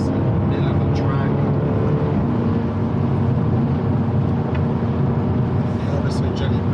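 A Jaguar F-Type SVR braking and downshifting into third on a wet race track, its engine a steady loud roar throughout with a few brief higher transient spikes near the end.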